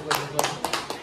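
A handful of hands clapping, four or five sharp claps close by in an uneven rhythm, with talk underneath.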